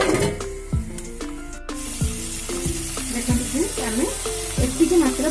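Mushroom and paneer frying in a pan for mushroom-paneer taka tak, with a steady close sizzle and repeated sharp scraping or tapping strokes of a spatula against the pan.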